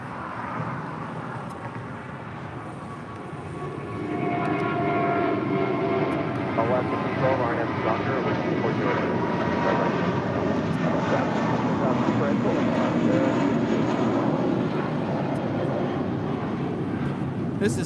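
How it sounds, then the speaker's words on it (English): A Spirit Airlines Airbus A320 departs LAX for Boston, a broad jet rumble building after the opening seconds and holding strong, with talk running over it. "This is Spirit 3673 departing to Boston on an A320."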